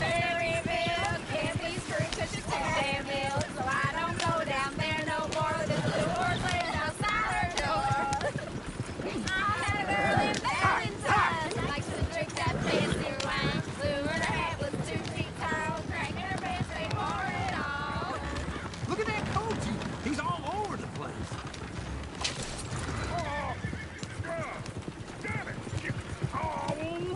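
Horse hooves clip-clopping in Red Dead Redemption 2, a steady rhythmic trot running throughout beneath a man singing, with music and game sounds layered over it.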